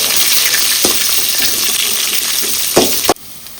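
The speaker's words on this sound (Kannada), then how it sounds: "ಈರುಳ್ಳಿ ಹಾಕಿ ಚೆನ್ನಾಗಿ ಫ್ರೈ ಮಾಡ್ಕೊಳ್ಬೇಕು" Dried red chillies and chopped onion fry in a hot pan with a steady, dense sizzle, broken by a few louder stirring scrapes near the end before the sound cuts off abruptly.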